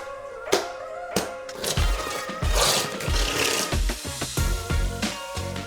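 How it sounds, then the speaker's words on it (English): A notched trowel spreads tile adhesive across a floor, making repeated rough scraping and rasping strokes at close range. Soft knocks of the tool come through between the strokes, and no voices are heard. "troweling in one direction and keeping your trowel at a 45-degree angle"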